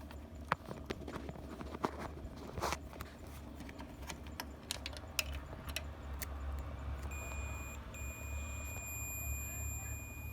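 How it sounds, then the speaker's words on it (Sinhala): An LG CRT television on the repair bench with a pincushion fault gives off a steady, high electronic buzzer tone in the last few seconds, ringing over earlier clattering and tapping workbench noise. "මේකේ බසර් එක"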